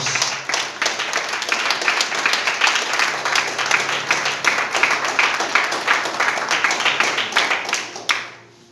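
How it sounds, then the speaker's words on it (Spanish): A church congregation claps together in warm, dense applause that holds steady for about eight seconds, then breaks off abruptly, with no voices heard. "dale un aplauso a la palabra de Dios."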